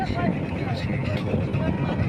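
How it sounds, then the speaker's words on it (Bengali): An engine-powered boat on the Brahmaputra river runs with a steady low rumble under wind buffeting the microphone, while a person talks over it. "এই দেখছেন আমি ইঞ্জিন চালিত নৌকায়"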